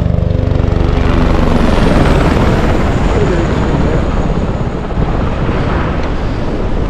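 A loud, steady helicopter drone with thumping rotor noise and wind rush, close by and continuous throughout, from the helicopter service between Baltal and Panchtarni on the Amarnath Yatra route.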